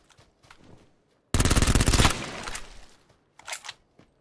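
A sudden loud burst of rapid automatic gunfire in PUBG on the Sanhok map, a dense rattling volley lasting about a second and trailing off, with fainter distant shots before and after.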